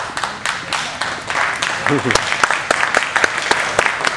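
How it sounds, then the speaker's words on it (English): Audience at a political rally breaking into sustained applause, a dense wash of clapping with a few sharp individual claps standing out, while a voice speaks over it. "You may applaud"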